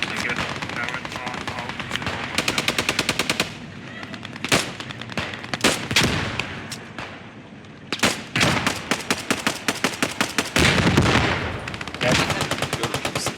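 Sustained automatic fire from WWII weapons in the game Post Scriptum, long rattling machine-gun bursts alternating with sharp single shots, loud and close, with brief pauses and occasional speech over the battle.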